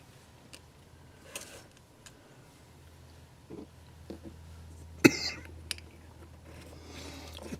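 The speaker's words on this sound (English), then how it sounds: "Get this cough I can't get rid of." A few scattered coughs, one sharp and louder near the end, against a quiet background with a steady low hum.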